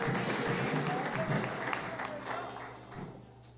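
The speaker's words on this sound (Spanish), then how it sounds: "Así que aplaudan." A church congregation applauds during a Spanish-language sermon, with dense clapping spread across the room over a sustained tonal musical backdrop, fading slightly toward the end.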